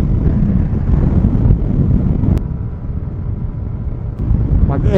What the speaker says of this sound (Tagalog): Nakakatakot, nililipad kami ng hangin guys.